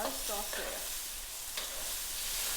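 Mud turtle and oysters being stir-fried in a wok to go into rice porridge, giving a steady hissing sizzle with stirring, while a voice speaks briefly at the start.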